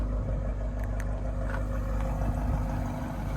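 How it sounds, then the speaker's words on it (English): A 2021 Audi RS6 Avant idling with a steady, deep exhaust rumble and a few faint ticks and clicks above it. No one speaks. "but that exhaust is phenomenal."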